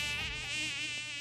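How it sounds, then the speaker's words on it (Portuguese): A mosquito whines close by in a thin, high, steady buzz that wavers slightly in pitch and loudness, with nothing else audible. "Ah, esse zumbido."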